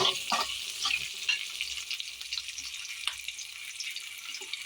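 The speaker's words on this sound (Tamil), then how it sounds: "தக்காளி நல்லா வதக்கி விட்டுக்கலாம். வதங்கட்டும்." Tomatoes sautéing in a pan for chutney after garlic and onions, giving a steady soft sizzle with a few scraping stirs near the start, close and moderately quiet with no voices.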